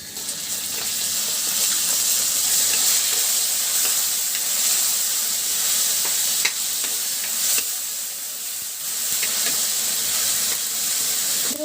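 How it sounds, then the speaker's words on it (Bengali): Taro stolons cooking with dried fish in oil give off a steady, close sizzle and hiss, with occasional stirring clicks and scrapes throughout and no talking. "এদিকে আমি কচুরলতি রান্না করছি, শুটকি মাছ।"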